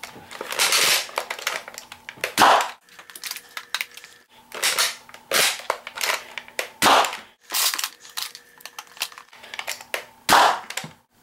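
A modified, singled Nerf Sledgefire blaster firing elite darts from a CPVC speedloader, heard as several sharp, close shots spaced a couple of seconds apart, each with clicks and clacks of the action being worked between them.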